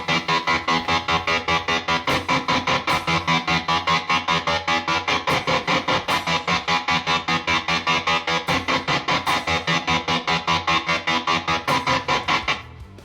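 Distorted electric guitar chugs through an Electro-Harmonix 8-step volume sequencer, producing a fast, steady rhythmic pulsing as the volume chops up and down in an even repeating pattern.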